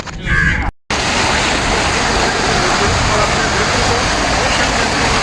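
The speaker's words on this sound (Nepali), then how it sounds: "अहिले हामी बस्दा बस्दै यसरी पानीको फोराहरू निस्किसक्यो" Water fountain jets spraying outdoors at a park in Al Khobar, a steady loud broadband hiss of falling water that runs continuously after a brief gap at the start.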